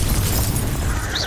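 A Bombarda blasting spell goes off in Hogwarts Legacy on Nintendo Switch, a loud, dense burst of explosive rumble and crackle that fills the whole short moment without letting up.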